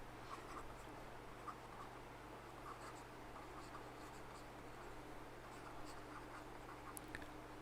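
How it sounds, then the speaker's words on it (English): Faint scratching of a pen or chalk writing out an equation by hand during a classical mechanics lecture, soft irregular strokes over steady low hum with no talk. "Maybe I can write down."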